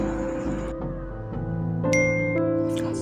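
A bright chiming bell tone rings out over soft background music, a short notification-style ding near the middle.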